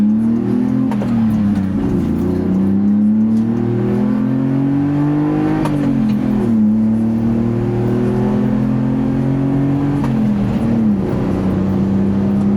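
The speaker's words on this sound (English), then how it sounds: "get the exhaust by EZKEI installed last night, and here's what it sounds like from a stop" A 1995 Honda Acty kei truck's loud aftermarket EZKEI exhaust revs up repeatedly from a stop, the engine note rising and dropping through several gear pulls, close and continuous.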